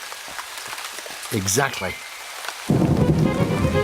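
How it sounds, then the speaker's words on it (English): Cartoon rain starts falling with a sudden hiss of steady downpour after a brief spoken word and a whooshing sound effect. "It's raining already."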